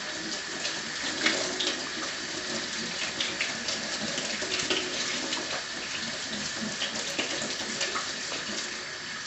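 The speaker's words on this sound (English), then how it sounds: "rinse the quinoa under a cold tap to just get rid of any impurities" Cold tap water running steadily over quinoa in a sieve at a kitchen sink, a close continuous splashing rush without pauses or talk.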